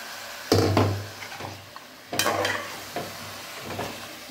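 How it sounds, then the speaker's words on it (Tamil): Mutton and tomatoes stirred in a pan over a high flame for biryani, two bursts of loud sizzling with scraping strokes, each fading between stirs, no talking. "நல்லா ஹை ஃப்ளேம் வச்சு கொஞ்சம் நேரம் நல்லா இதை மிக்ஸ் பண்ணி விடுங்க"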